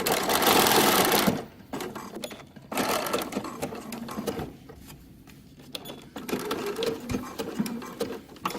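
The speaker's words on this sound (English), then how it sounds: "And now I'm just going to zigzag down to catch that edge so that it's nice and flat." A sewing machine zigzag stitches down a fabric edge on a caftan cover-up, a loud close rapid buzzing that starts strong, then runs in shorter stop-and-start bursts with brief quiet gaps.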